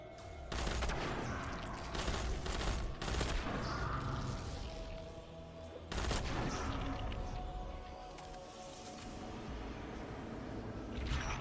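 A heavy gunfire volley in Destiny 2: Lightfall fills the scene, dense overlapping shots and booms rolling continuously with a sharp fresh surge midway, loud and close.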